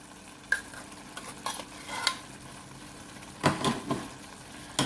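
Thick seafood stuffing being stirred with added cream of mushroom and cream of celery soup, giving several soft, wet scraping strokes spaced apart, fairly quiet and close with no talking.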